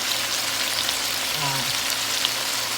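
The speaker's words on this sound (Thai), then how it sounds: "เดี๋ยวเอาเป็นน้ำมันหอยลงไป หนึ่งช้อนโต๊ะ หนึ่งช้อนครึ่ง แล้วก็ซีอิ๊ว" Oyster sauce and light soy sauce hitting a hot pan in a steady, loud, dense sizzle, like heavy frying, held close and unbroken throughout, with no voices.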